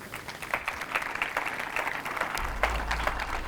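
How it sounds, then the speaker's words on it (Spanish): Conference audience clapping for the speaker Silvia Leal at an events-industry talk, dense overlapping applause that holds steady throughout and is joined by a low rumble toward the end. "Le damos un fuerte aplauso."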